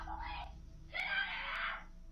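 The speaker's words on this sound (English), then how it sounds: "the obvious screams from the girl inside as she notices the men at the door" A girl inside a house screams at men standing at the front door, caught on a doorbell camera: two loud, high, wailing screams, the second longer and stronger, with no speech.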